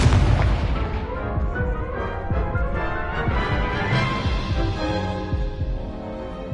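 A Confringo blast spell from the Hogwarts Legacy video game, its loud booming explosion burst opening the clip and then giving way to a dense, rumbling wash of battle effects and music that stays strong throughout.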